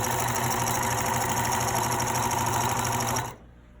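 A sewing machine stitches down a scarf in one continuous, steady run, close and loud, stopping abruptly near the end into near silence.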